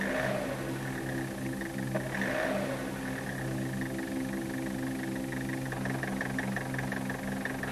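A diesel engine fitted with a VE distributor-type rotary injection pump idles at normal operating temperature, a steady, even drone with a faint knocking rhythm that holds at constant loudness throughout, with no voices.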